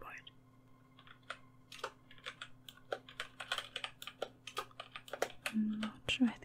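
Fast clacking keystrokes on a computer keyboard, close up and crisp, with irregular bursts of taps over a low steady hum and faint soft vocal sounds.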